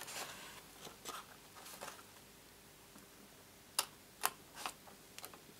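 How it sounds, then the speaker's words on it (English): Scissors snip through a paper treat bag in a papercraft session, a handful of faint crisp cuts spaced out, with louder sharp snips near the end in an otherwise quiet room. "So I'm just going to finish mine off with scissors."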